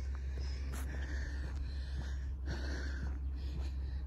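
Heavy, rhythmic panting and snorting breaths from a person winded after running outdoors near farm fields, close to the mic over steady wind-like rumble.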